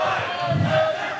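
A wrestling audience at Strangeways Brewing in Fredericksburg roars and cheers in unison, a loud, sustained crowd chant filling the room with voices blending together.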